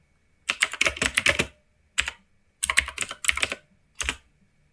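Keys clatter on a computer keyboard as a question is typed into a locally installed offline AI model on Windows, coming in quick bursts of clicks with short pauses between words, close and clear with no talking.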